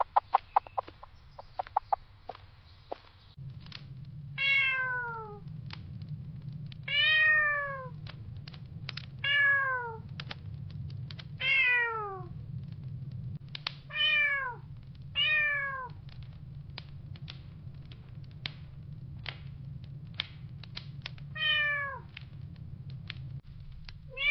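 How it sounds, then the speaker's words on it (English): A cat meows repeatedly, about ten clear, drawn-out calls at irregular intervals over a low steady rumble, with a few sharp clicks at the start. "Whose cat is that?"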